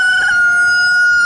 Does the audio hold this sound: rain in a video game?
no